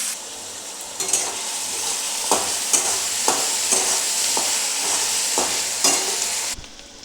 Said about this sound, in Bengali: পেঁয়াজগুলো একদম লালচে করে ভেজে নিলাম